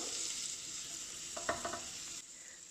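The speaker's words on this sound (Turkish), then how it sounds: "Tereyağım eridikten sonra 3-4 diş sarımsağı üzerine ekliyorum." Garlic cloves frying in melted butter and a little oil in a pan, a steady soft sizzle with a few brief stirring clinks near the middle, close and continuous.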